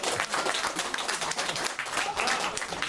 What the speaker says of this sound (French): il y a des gens qui applaudissent mais qui n'ont pas compris là